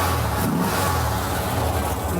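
An old Porsche engine, cold and just started, revs and runs loudly up close, a steady rough mechanical roar throughout.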